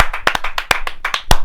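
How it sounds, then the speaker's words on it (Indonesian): Audience clapping for Teddy on an Indonesian youth talk show, a burst of uneven handclaps with several sharper loud claps standing out, fairly close and lively, with no talking over it. "Tepuk tangan untuk Teddy."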